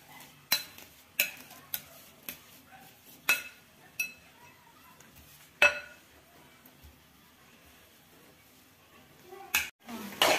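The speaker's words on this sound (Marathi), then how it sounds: "हे 4 बटाटे मी घेतलेत, मॅश करून घेते." Four boiled potatoes are mashed in a pan for pav bhaji, giving sharp metallic clinks and taps that come every second or so in a quiet kitchen, then a brief scraping clatter at the end.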